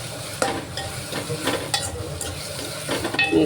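Green chili paste fries with onions in a hot pan. A steady crackling sizzle runs throughout, while a utensil scrapes and stirs in several distinct strokes close by.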